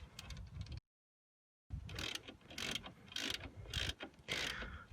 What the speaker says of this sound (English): grab your 18mm socket on the breaker bar and start tightening them down